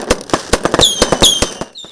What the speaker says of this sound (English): I think the fireworks are really sensational.